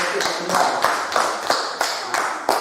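A class claps together in a schoolroom, a rhythmic run of about eight evenly spaced group claps, close and moderately loud.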